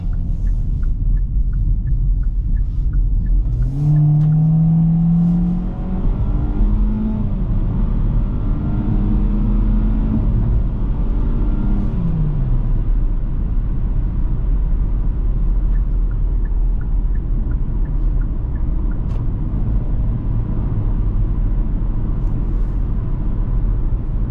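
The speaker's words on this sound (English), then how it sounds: "I'm gonna put this car in sport mode, see how it drives and reacts to that." A 2024 Kia Forte LXS with a CVT accelerates in sport mode, its engine drone rising and shifting in pitch over a constant low road rumble heard from inside the cabin.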